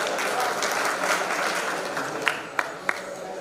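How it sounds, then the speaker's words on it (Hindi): An audience at a radio listeners' convention applauds to welcome a guest on stage, a full steady roar of clapping with a few louder close claps near the end. "तालियों के साथ स्वागत करेंगे"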